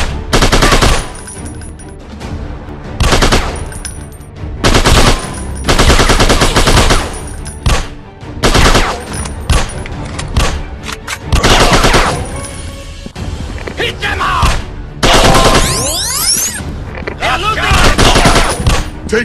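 Rapid automatic gunfire and bursts of shots in the mobile shooter Fire Force Battleground Survival, loud and dense, coming in repeated volleys across the whole stretch with brief gaps and some ricochet-like whines near the end.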